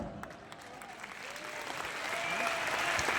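Soft, distant applause from an audience at an event in Delhi, a steady wash of clapping that swells slightly toward the end.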